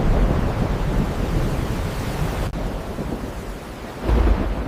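A thunderstorm with heavy rain pours down in a dense, loud, steady wash, and a deep rumble of thunder swells near the end.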